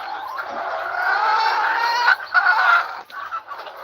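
A new hen that lays her eggs in a collecting crate clucks and squawks, a drawn-out, strained call at close range running for several seconds with a few short catches near the end.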